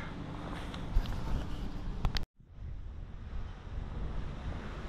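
Wind and waves against a harbour wall where perch are fished, steady blustery rumble and wash close to the microphone, cut by a brief dropout midway before resuming.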